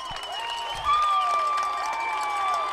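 Fans at a Connellsville high school football game against Uniontown cheer and shout as a loud crowd roar, with high voices and whistle-like tones standing out above the steady noise.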